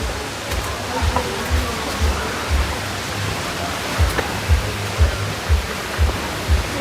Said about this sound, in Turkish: Kaynak suyun çıktığı yer burası.